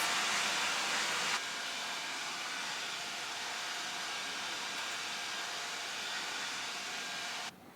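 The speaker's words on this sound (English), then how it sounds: "while the Roborock is running" A Roborock robot vacuum runs indoors during a household cleaning routine, giving a steady, fairly close broadband whir with no voices, briefly louder at the start and fading slightly at the end.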